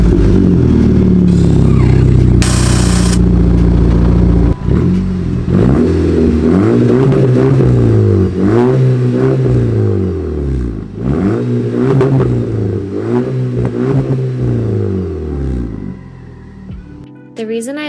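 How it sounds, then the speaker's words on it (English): A 2012 Audi A3 with a muffler delete revs hard through its open exhaust, loud and close, with repeated rising and falling throttle blips after a steady idle, then cutting off at the end. "So I will go ahead and do a little exhaust clip for you guys right now."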